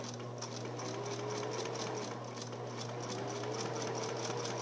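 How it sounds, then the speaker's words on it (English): A sewing machine stitching a fabric seam with back stitches, its motor humming steadily under a fast, even rattle of the needle, close up and continuous with no voices. "Gonna go ahead and start. Get some back stitches in there."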